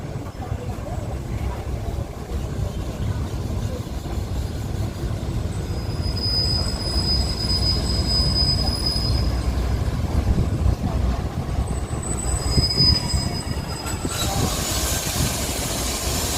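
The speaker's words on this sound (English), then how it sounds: "So you can see the train is approaching" A passenger train on the Chumphon to Bangkok line pulls into a Thai station platform with a steady heavy rumble, and high metallic wheel squeals ring out twice over the rolling noise.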